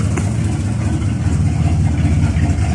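A car engine runs at a steady idle, close and loud, with a continuous low rumble throughout and no talk.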